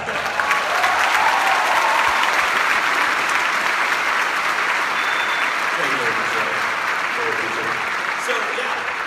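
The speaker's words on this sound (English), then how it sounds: "Round of applause for Jack." Sustained applause from a convention panel audience at PAX Australia 2014, loud and steady throughout, with some cheering and voices mixed in.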